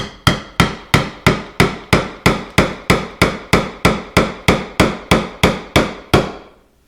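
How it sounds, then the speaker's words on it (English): Wooden cookie pieces being hammered onto rebar for a rustic snowman craft: about seventeen sharp, evenly spaced hammer taps ring out close and loud in a steady rhythm, with no talking. "So once I get it all lined up, I'll give it some taps."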